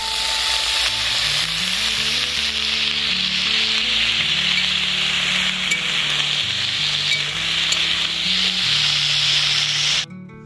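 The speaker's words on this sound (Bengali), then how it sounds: "তো একটু লবণ আর পরিমাণ মতো হলুদ দিয়ে ভালো করে নেড়ে চেড়ে ভাজা করে দিচ্ছি" Potatoes and flat beans fry in a pan with salt and turmeric, giving a continuous close sizzling hiss with light stirring scrapes, while soft background music plays underneath until it cuts off at the end.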